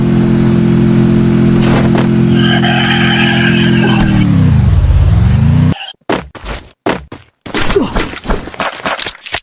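Vehicle engine in the Free Fire video game, a loud steady mid-pitched engine drone that sags and dies away after about five seconds, followed by sharp bursty in-game clatter and impacts.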